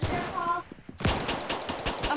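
Gunfire in the first-person shooter game Arsenal, a rapid burst of crackling shots following a brief musical tone, loud and near with no speech over it.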